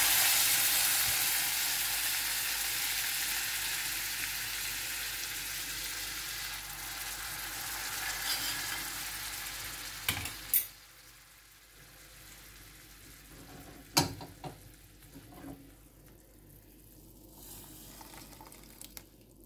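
Wheat and chicken soup bubbling and sizzling in a pot, a steady broad wash for about ten seconds, then quieter with a few sharp clinks and scrapes of a spoon stirring.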